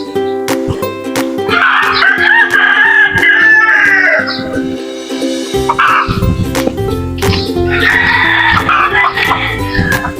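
Native chickens near a house: a rooster crows loudly twice in long drawn-out calls, with hens clucking steadily and bird chatter throughout.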